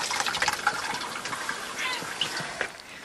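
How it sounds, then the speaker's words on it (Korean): Cloth dipped and sloshed in a jar of fermented indigo dye: soft, close watery splashing and dripping, steady and fairly quiet. "이 쪽통이 잘 나오는지 발효시켜 놓은 쪽 항아리에 한 번 더 담가 보는데"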